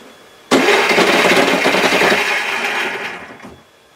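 Electric motor of a home-built buggy, powered from a battery, starts abruptly and runs with a loud, dense whirring racket for about three seconds before winding down and cutting off.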